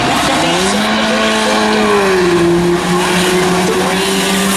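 Race cars at speed on an oval track during a claimer race, engines droning loud and steady with rising and falling pitch as cars run side by side, a race announcer talking over the roar.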